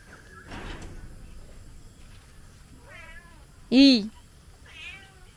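A cat meows a few times, one call loud and close, the others softer, with quiet background noise between.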